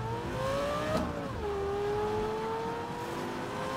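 A Porsche 911 engine in a racing game, droning steadily close up, its pitch rising under throttle, dipping briefly as it shifts, then climbing again over a low rumble.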